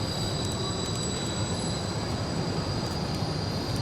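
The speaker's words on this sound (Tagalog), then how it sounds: "Nakatuwa yung train dito, no? Sunod-sunod. Yung mga bagon." Railway wagons roll past one after another in Basel, a steady close rumble of wheels on track with high metallic squeal, loud and continuous with no talk.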